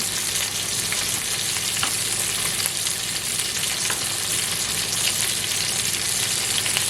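Chicken and bell peppers frying undisturbed in a pan to brown for a Basque-style chicken dish, a loud, even, continuous sizzle with faint crackles and no stirring or voices.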